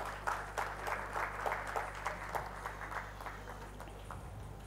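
Loud, sustained applause from an audience at a book release event where Aajkaal Publishers launched eleven new books; dense clapping runs steadily throughout without speech.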